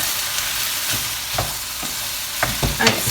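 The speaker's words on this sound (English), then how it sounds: "I'm going to get another quick stir." Onions frying for lasagne sizzle steadily in a pan while a spoon stirs them, with a few soft scraping knocks over the constant close hiss and no talking.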